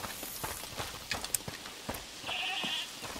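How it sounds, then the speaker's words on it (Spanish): Goat bleating in A Plague Tail Requiem, a short wavering animal call heard clearly alongside scattered hoof-like footsteps and other game sounds, with no talking. "Ahí la escuché. Escucha, ¿es la cabra que mencionó?"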